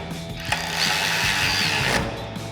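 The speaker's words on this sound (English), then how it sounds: "We'll take our 6mm Allen socket, we'll level out our light bar," A ratchet with a 6mm Allen socket tightens the mounting bolts on a light bar fitted to a Tundra front bumper, giving a close, steady run of quick clicking over about a second and a half.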